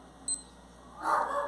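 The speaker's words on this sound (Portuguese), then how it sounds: "Aqui tem o alarme." A Skmei 1454 digital wristwatch gives a single short, high alarm beep up close, followed by a soft rustle of handling, with no talking.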